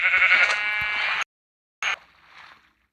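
Sheep in a video game, two loud bleats close up: a long bleat, a short gap of silence, then a brief second bleat that fades.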